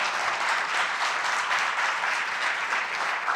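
A church congregation applauds for the Lord, a steady, dense wash of many hands clapping that holds at an even level throughout, with no voices on top.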